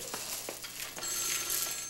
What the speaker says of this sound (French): Encore le téléphone.